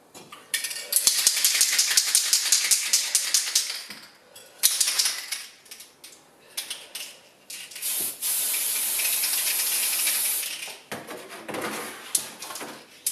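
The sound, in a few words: spray painting Tamiya Dual Ridge buggy bodyshell with aerosol paint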